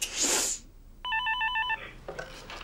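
Telephone rings once with a short, bright electronic trill lasting under a second, clear and fairly close in a quiet room, followed by faint rustling.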